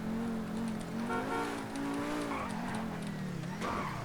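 A Pegassi sports car in GTA V drives with a continuous engine hum while its tires squeal and skid through turns, the pitch wavering and rising briefly near the end.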